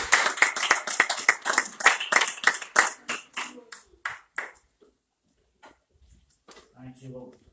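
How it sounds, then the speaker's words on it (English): A church congregation claps hands in praise during a Sunday morning service, a dense burst of sharp claps for about four seconds that thins out and stops, followed by near silence and a brief low murmur of voices. "Give another hand clap of praise."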